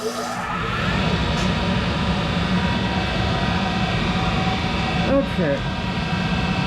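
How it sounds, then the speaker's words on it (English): A Monarch 10EE lathe spindle runs at roughly 900 to 1,000 rpm, giving a steady, loud mechanical whir and hum throughout, with a brief spoken word near the end. "I'll take the opportunity to kind of show some spindle action on this thing"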